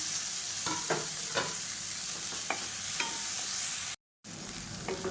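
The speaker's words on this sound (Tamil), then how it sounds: "வெங்காயம் நல்லா தூள் வதங்கி வரணும் அந்தளவுக்கு நல்லா வதக்கிடுவோம்" Onions and tomatoes sautéing in a pan for a Tamil kulambu, with a steady close sizzle broken by repeated stirring scrapes and a brief dropout near the end.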